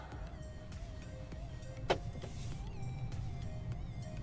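A Vauxhall Corsa E electric hatchback pulls away smoothly with no gear changes, giving only a low, steady interior hum and faint whine, with one brief knock partway through and no talking.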